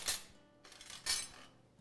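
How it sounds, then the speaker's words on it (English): Metal kitchen tongs are picked up amid cookware in a home kitchen, giving two bright clinks spaced about a second apart, each with a short metallic ring, close and moderately quiet. "Let me grab a tongs."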